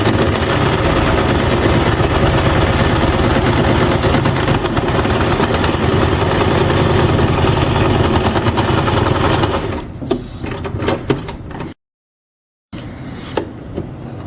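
A domestic sewing machine stitching fabric, running loud and steady with a fast mechanical rattle for about ten seconds, then slowing into irregular clicks, a brief silence, and a short restart.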